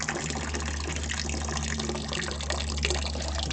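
Water runs from a tap into a container in a steady, close gushing flow, with no talk.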